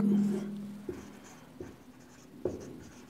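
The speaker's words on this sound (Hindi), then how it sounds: "यहाँ लिख देता हूँ, प्रमुख" Chalk or marker writing on a board during a geography lesson, a few short scratchy strokes spaced about a second apart, close and moderately loud, following a brief voiced hum at the start.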